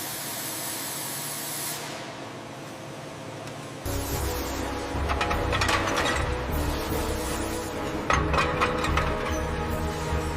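A ratchet tightening a mount on a military vehicle during restoration, with bursts of rapid clicking after a quieter start, close and steady, mixed with a mechanical hiss.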